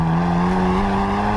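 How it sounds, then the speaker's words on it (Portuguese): A Hyundai i30 N (275 hp, front-wheel drive) engine droning steadily through its twin exhaust outlets with a low, rising exhaust note, close and continuous with no pauses. "as duas saídas de escape, que são aqui responsáveis pelo som brilhante que ele faz"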